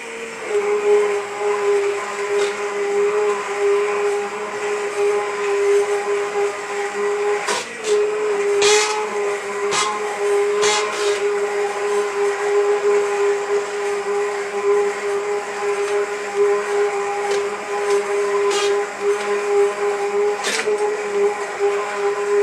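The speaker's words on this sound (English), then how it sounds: "now I got to do the emulsion blender, get it all chopped up" An immersion blender whirs steadily as it chops up a pot of cooked salsa, a constant loud motor whine lasting throughout, with brief rattling bursts partway through.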